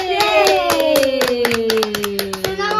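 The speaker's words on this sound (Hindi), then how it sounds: "ताली बजा दो" Irregular baby hand claps patter quickly over a singing voice, the claps light and close, continuing throughout.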